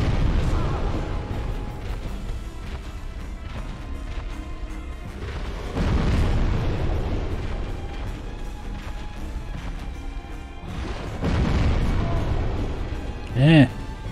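Heavy booms and crashes from an enemy explosion in the video game Dark Souls, with several loud bursts rumbling over continuous game noise and a short tonal effect near the end.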